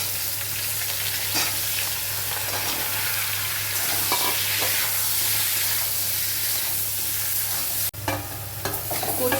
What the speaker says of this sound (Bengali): কচু আলুটা ভাজা করতে বেশ সময় লাগবে